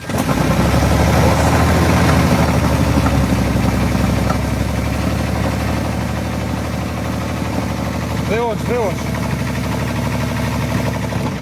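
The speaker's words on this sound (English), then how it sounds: "That's definitely a walked out main bearing, and that engine is toast." A loud, rough idling Toyota Tundra engine with a walked-out main bearing runs continuously with a heavy mechanical clatter throughout; a brief squeaky chirp sounds near the end.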